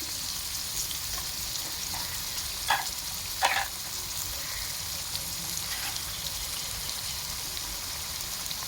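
Four cut green chillies and turmeric sizzle steadily in a pan for a chicken curry, a constant close frying hiss broken by two short crackling pops near the middle, with no voices.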